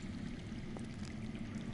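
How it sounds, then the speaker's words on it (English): Underground water flowing steadily somewhere below a ruin in a Game of Thrones video game, a faint, continuous low rushing wash with no talk over it. "I hear water. From underground."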